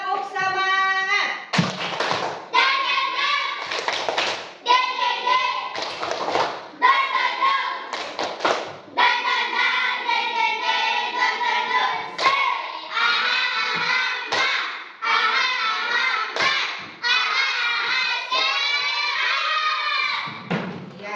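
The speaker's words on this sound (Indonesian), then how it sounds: "Coba tepuk semangat." A class of students performing a rhythmic spirit clap, patterned bursts of clapping and thumping separated by brief pauses, interleaved with chanted voices over about twenty seconds.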